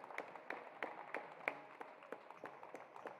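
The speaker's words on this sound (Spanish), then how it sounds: "Aplausos para la gente de Ferro que ingresa." Spectators at a youth handball match at Club Lanús clap in a steady, evenly timed rhythm as the Ferro team enters; the claps are faint and distant.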